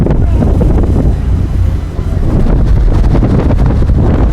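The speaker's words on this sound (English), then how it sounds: "Very stiff gust, a lot of splashing." A stiff gust of wind buffets the microphone at an outdoor heavyweight men's rowing race on open water, a loud, roaring rush of noise with splashing mixed in, holding steady throughout.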